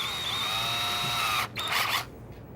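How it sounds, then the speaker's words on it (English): A power drill whirs steadily as it bores a pilot hole in a clamped woodworking joint, a loud continuous whine for about a second and a half, then a short burst of drilling before it stops. "I'm going to change out my drill bit to my pilot hole size."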